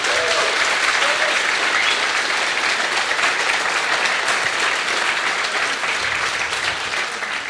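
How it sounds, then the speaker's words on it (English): A conference audience applauds sponsors at a Python developer event in Canada: loud, dense clapping from a large crowd that holds steady for several seconds before easing slightly. "So let's give a big round of applause for all of our sponsors."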